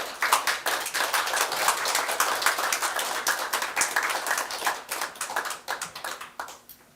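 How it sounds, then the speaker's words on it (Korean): An audience at a Korean national religions association academic conference applauds as the association's chairman is invited to the podium. The clapping is dense and steady for about seven seconds, then thins into scattered claps near the end. "큰 박수로 김영하 회장님을 단상으로 모시겠습니다."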